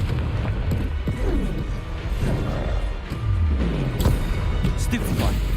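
Several blasting-spell explosions burst in Hogwarts Legacy, heavy crashing booms with swooping magic effects layered under almost constant player talk.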